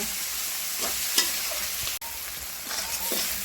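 Fried radish pieces tossed with spices in a hot pan give a steady sizzling hiss with a few scraping strokes of the spatula. No one speaks.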